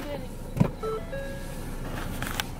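A car idles and moves slowly while being maneuvered into a parking spot, with a faint whine like a power window partway through and a brief thump; people talk in the car.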